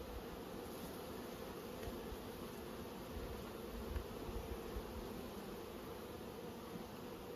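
Honey bees in a queenright nucleus hive at Nymboida, fed with sugar syrup as winter nears, give a steady, close, even buzzing hum throughout, with no voices.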